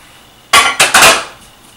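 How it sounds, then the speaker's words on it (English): A raw chicken breast lands on a cutting board with three quick, sharp knocks in close succession, loud and near, then fades to silence. "slide him right onto my cutting board"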